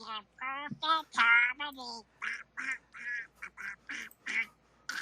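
A human voice imitates Donald Duck, with a run of squawky, nasal quacking bursts, a few long and slurred, then shorter choppy ones in a steady rhythm, close and clear.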